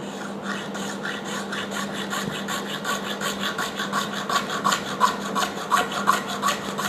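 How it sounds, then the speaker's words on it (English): A small hacksaw blade cuts close to a baseboard in steady back-and-forth strokes, the rasping rhythm growing slightly louder and sharper toward the end, heard up close with no talking. "I'm just going to start doing the saw motion."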